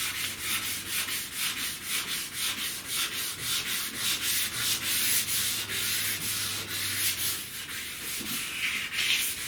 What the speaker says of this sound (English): You're not trying to rub the filler out, you don't go down through to the metal, you're just trying to make it smooth.